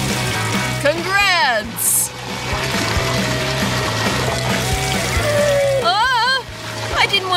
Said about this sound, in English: this button is gonna give you a whole lot of water